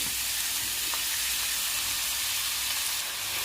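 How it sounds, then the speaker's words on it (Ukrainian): Chopped onion frying in odourless sunflower oil in a frying pan, a steady, even sizzle with a bright, airy hiss that holds constant throughout, with no talk. "У фандел наливаю олою, олії соняшникової, без запаху. І висипаю туди надрубно покришену цибулю."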